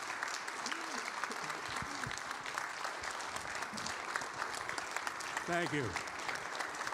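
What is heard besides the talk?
audience applause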